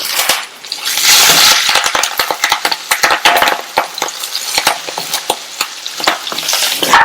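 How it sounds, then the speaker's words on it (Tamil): Curry leaves and cut green chillies are sautéed in a pan: a loud burst of hot sizzle gives way to busy, irregular scraping and clacking of a spoon stirring against the pan, close up. "அடுத்து கறிவேப்பிலை, 2 கட் பண்ண பச்சை மிளகாய் சேர்க்கிறேன்"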